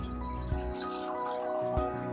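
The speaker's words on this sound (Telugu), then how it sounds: "ఓ గిన్నె, ఇందులో కాసిన నీళ్ళు పోద్దాం" Water poured from a vessel into a cooking pot while making Andhra tomato rasam: a steady close splashing trickle lasting a couple of seconds, with a few small clinks and no talk.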